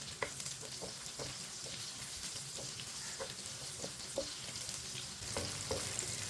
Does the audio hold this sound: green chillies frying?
yes